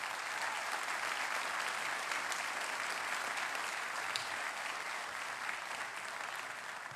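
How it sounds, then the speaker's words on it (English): Sustained audience applause at a sheriff's awards ceremony honoring 20 years of service, a steady dense wash of many hands clapping throughout with no talk over it. "How about a round of applause?"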